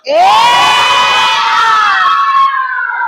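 Classroom of schoolchildren shouting a chant together in loud unison, one sustained burst of young voices that fades out near the end.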